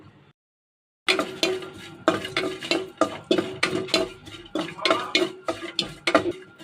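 Dried loitta fish being fried lightly in a pan, heard as a string of close scraping stirs and knocks against the metal over a soft sizzle, each stroke landing in a loose rhythm after a brief silence.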